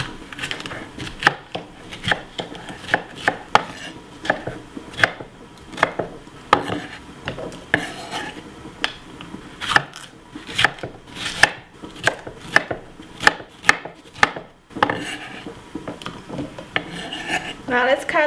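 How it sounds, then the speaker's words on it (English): A knife chops a red pepper on a cutting board in quick, steady, close strokes, with a short pause partway through and no talking. "Now I will cut the red pepper."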